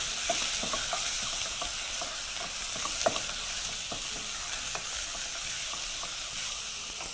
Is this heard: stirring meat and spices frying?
yes